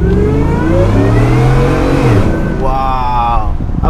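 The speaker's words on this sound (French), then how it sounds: "le compresseur fait un bruit très caractéristique, il fait oui quand on accélère" A Shelby's supercharger whines as the car accelerates hard, a loud close engine roar climbing in pitch with a rising high whine layered over it, and someone talks over the start.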